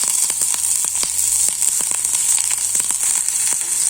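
Chopped onions sizzle steadily in a hot pan with spices, a dense, continuous frying hiss broken by frequent sharp crackles and pops, close and fairly loud with no talking.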